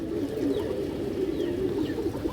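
Farm pigeons coo continuously close by, a dense low warbling murmur of several birds with faint chirps above it and no voices.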